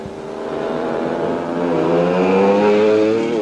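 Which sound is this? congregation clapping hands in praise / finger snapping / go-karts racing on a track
go-karts racing on a track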